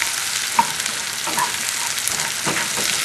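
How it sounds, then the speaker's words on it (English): Shallots fry in a pan over medium heat, giving a constant close sizzle with occasional sharper pops and crackles. "right now I'm frying up some shallots."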